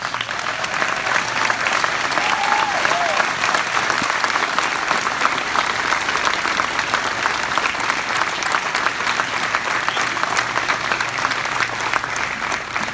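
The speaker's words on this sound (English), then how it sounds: "give you a round of applause" A large crowd claps loudly and continuously at a Memorial Day ceremony in Enid, a dense, even wash of applause that holds steady throughout.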